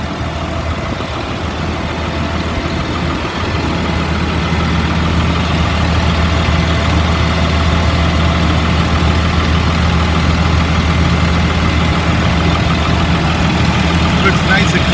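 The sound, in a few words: 2004 Blue Bird school bus engine idling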